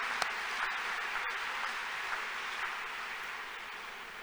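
A church congregation in Ghana's Eastern region claps together in worship, a faint, steady wash of hand claps that sounds distant and continues evenly throughout.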